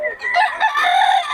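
A rooster at a chicken market in Bukawi crows once, loud and close, in a drawn-out call lasting over a second with no talk over it.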